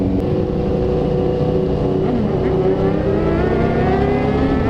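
A Kawasaki Ninja ZX-10R superbike engine revs and drones nearby among other loud superbikes on a Mumbai road, a continuous rising and falling engine note, loud and alone.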